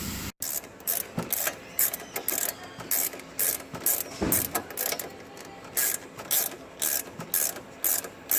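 A hand ratchet tightens sway bar link nuts in a car's suspension, giving close, repeated bursts of clicking pawl strokes in an uneven rhythm with short pauses between pulls.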